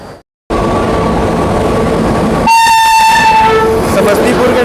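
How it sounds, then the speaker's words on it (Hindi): An Indore–Puri Humsafar Express hauled by a WAP-7 electric locomotive rolls past a station platform, a loud steady rumble of wheels and cars broken by a long sustained horn blast partway through. "समस्तीपुर के WAP 7 के साथ इंदौर पूरी हमसफ़र आ चुकी है।"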